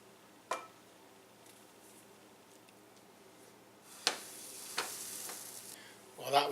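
Crepe cooking in a pan, with a faint low sizzle under occasional light clicks and taps from the utensils, then a louder burst of sizzling and scraping toward the end.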